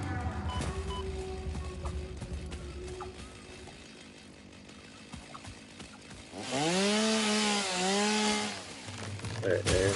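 A chainsaw in the video game Satisfactory cuts down trees, revving in a loud, rising-and-falling whine for a couple of seconds mid-clip after quieter low rumbling, with brief engine idle at the end.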